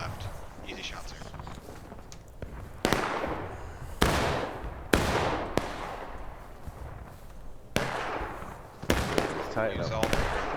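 Musket volleys crack out in War of Rights, a Civil War battle game: a series of sharp, loud shots spaced a second or two apart, each leaving a short echoing tail, over a steady battlefield rumble.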